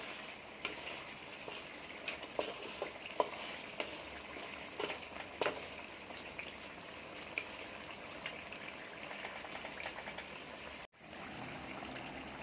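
Masala for chicken white karahi fries and is stirred in a pan, a quiet continuous sizzle broken by sporadic spoon scrapes and clicks, with a short dropout near the end.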